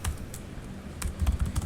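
Someone types HTML code on a computer keyboard, with close, quick key clicks in short bursts and a few sharper strikes.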